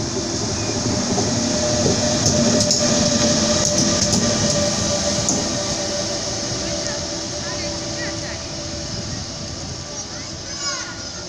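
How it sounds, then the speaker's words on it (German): Two Regio Shuttle BR650 railcars and a class 146 locomotive shunting at a platform: a steady rumble of rolling stock with faint clanks and squeals, continuous and moderately loud throughout. "Als nächstes seht ihr den Rangiervorgang zweier Regio Shuttle BR650 und der 146er an den Zug auf Gleis 3."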